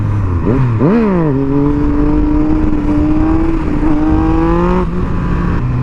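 A Yamaha FZ-09 motorcycle engine blips sharply twice, then holds a loud, steady high rev with a slowly rising pitch for a clutch-up wheelie, close and dominant before easing off near the end.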